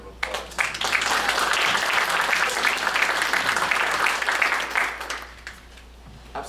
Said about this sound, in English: They deserve Absolutely. a round of applause.